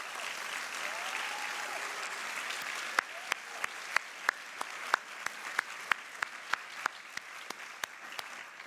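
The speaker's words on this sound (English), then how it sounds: "Let's give a round of applause for our finalists." Applause for award finalists at a university student leadership awards ceremony: dense, steady clapping from a seated audience fills the whole stretch, with a few sharper individual claps standing out near the end.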